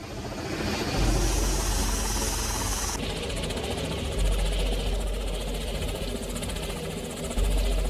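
Black Hawk helicopters on a humanitarian rescue mission, a loud, close, continuous engine roar with a rapid rhythmic rotor thump and steady vibration throughout.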